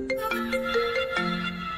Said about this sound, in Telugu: కాల్ వస్తుంది, లిఫ్ట్ చేయి.